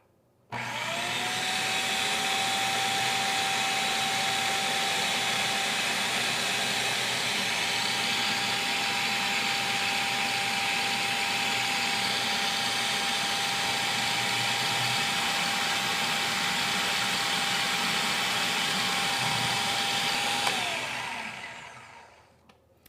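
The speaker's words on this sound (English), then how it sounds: "we're going to add this pre-measured olive oil into the food processor as it's running" A Cuisinart Elemental 8-cup food processor runs steadily with olive oil being added, a loud, close motor whir with a steady tone that starts abruptly, holds for about twenty seconds, then winds down.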